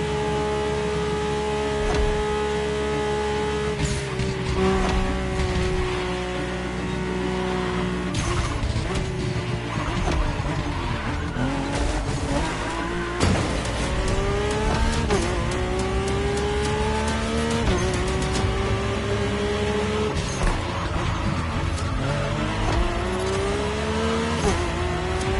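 A Mercedes-AMG One hypercar driven in The Crew Motorfest racing game, its engine note rising and falling loudly through repeated gear shifts and accelerations, with brief tire noise, continuous and close.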